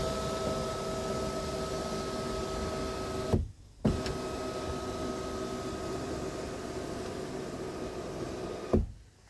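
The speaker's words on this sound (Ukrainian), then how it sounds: "шторка пішла, шторка пішла і закриваємо одним дотиком" Electric panoramic roof sunshade of a Ford closing, a steady motor whir with a faint tonal hum running for several seconds, then a brief pause and a short click as it restarts and stops, with no talking.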